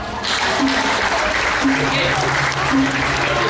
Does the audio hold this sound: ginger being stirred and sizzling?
no